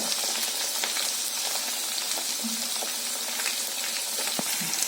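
Green chilies and curry leaves sizzle steadily in hot oil while pickle is made with anchovy-like kozhuva fish, a constant bright frying hiss with small pops and a few faint clinks.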